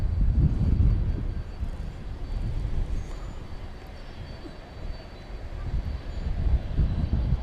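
A jet aircraft pushing back at DFW Airport at night produces a steady low engine rumble and hum, swelling slightly at the start and end, with a faint high whine above it and no talk.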